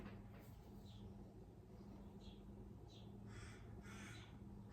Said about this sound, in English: You can hear the crows.